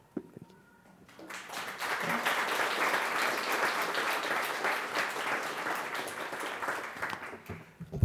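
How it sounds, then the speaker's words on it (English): An audience at a student poetry reading breaks into applause after a short quiet start, clapping steadily and fairly loudly for several seconds before it begins to thin. "They clapped anyway."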